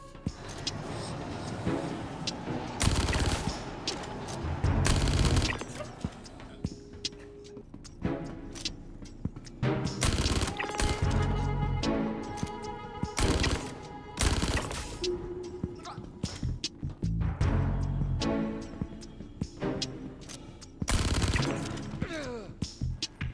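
Gemini LH86 pistol firing in Star Citizen during close-quarters combat, with loud repeated bursts of shots in clusters, separated by short gaps over a steady game background.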